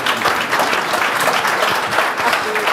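Audience at a tech and business sustainability panel applauding at the close, dense sustained clapping from a crowd throughout.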